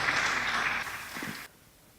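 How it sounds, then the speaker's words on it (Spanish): Audience applause for speaker Rodrigo Torres as he comes up for his talk at a tertulia, a steady wash of clapping that stops suddenly partway through and leaves near silence. "un aplauso para él"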